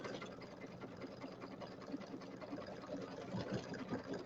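An embroidery machine stitches a St Patrick's Day settee pillow, giving a steady mechanical whir with a fast, regular needle pulse that runs evenly throughout at moderate loudness.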